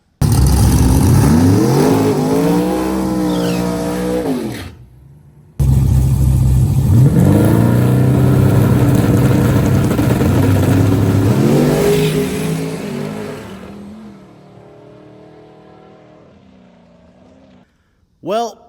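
A Chevy Nova no-prep drag car, the OG Murder Nova, with low tire pressure, revving hard and then roaring down the strip on a loud rising pass that fades into the distance, with talk over it.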